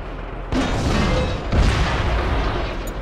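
In the World of Tanks video game, a tank shell bounces off armor: two heavy, booming impacts about a second apart, loud and close, each trailing into a dense rumble with no talk over it.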